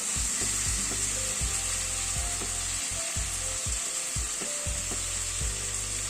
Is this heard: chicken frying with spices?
yes